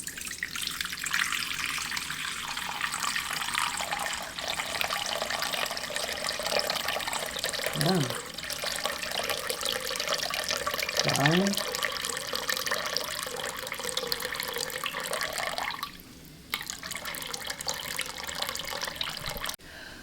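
Warm water runs steadily from a tap into a container for sourdough starter, a continuous hiss and splash lasting throughout with a brief pause near the end. A couple of short spoken words come through faintly over it.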